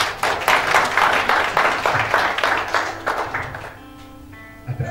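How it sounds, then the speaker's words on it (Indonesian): A church congregation claps together during an Indonesian sermon, a loud, dense burst of steady hand claps that carries on for several seconds before tapering off into quiet. "Tepuk tangan dulu dong."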